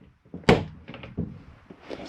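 A door on a 2022 Catalina Legacy 293QBCK travel trailer's bunk room is snapped open with one sharp thunk, followed by lighter rattles and knocks from nearby fittings, close and fairly loud.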